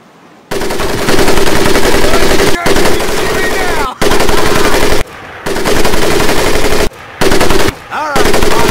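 Loud, close machine-gun fire from a Medal of Honor Pacific Assault battle, delivered in about six sustained rapid bursts separated by brief pauses.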